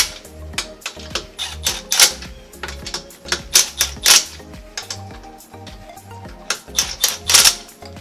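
An impact wrench hammers on Muteki lug nuts in rapid, loud bursts of ratcheting clatter, starting and stopping repeatedly close by.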